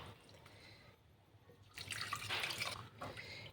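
Water pours into a cooking pot on a gas stove, a soft hiss of flame first, then a louder splashing gush for about a second that settles back to a quieter stream.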